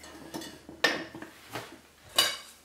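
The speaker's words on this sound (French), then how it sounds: "On mélange le tout." A spoon clinks against a bowl while beef terrine marinade is mixed with salt, a few sharp scattered taps and scrapes, close and fairly quiet, with no talk.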